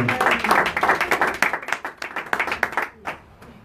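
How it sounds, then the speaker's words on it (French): A church congregation claps steadily in dense, rhythmic bursts with some cheering, close and loud throughout, tapering slightly near the end. "Acclamons le Seigneur comme cela se doit, mes frères et sœurs bien-aimés."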